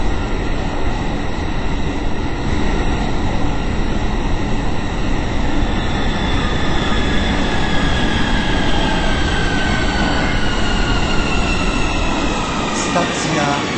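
Inside a Warsaw metro train running between stations, a loud, continuous rumbling roar of wheels and motors fills the car, with a recorded announcement voice heard over it.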